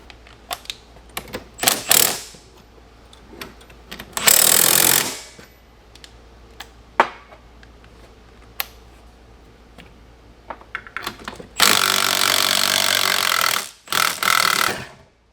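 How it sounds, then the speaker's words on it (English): A power tool drives a spring compressor tight on a Honda Civic lowering spring, sounding as loud, sustained mechanical bursts of several seconds between scattered clanks and rattles of tools, all close by. "So now we're just hooking up the spring compressor, tighten this down, compress the spring"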